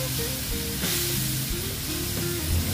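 Spice paste mixed with water hitting a hot pan while cooking a Bengali katla fish curry with onion stalks, giving a loud, steady, close sizzle that carries through the whole moment with faint stirring.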